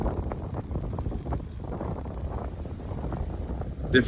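Storm wind gusts buffet the microphone over open land, a low rumbling roar that swells and eases continuously, fairly quiet and without talk.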